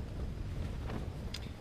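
Wind blowing across the open fell at Sylarna in the Swedish mountains in misty weather, a steady broadband rush of gusts buffeting the microphone with no voices.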